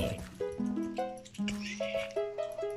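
A horse in a video game whinnies in a series of high, wavering neighs, fairly faint, with a light rhythmic clatter underneath.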